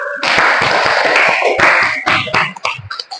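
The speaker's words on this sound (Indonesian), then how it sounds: "Jadi tepuk tangan dulu untuk kita semua" A classroom of students clapping together in a loud, close burst of rapid, uneven claps that thins into a few scattered claps and thuds near the end.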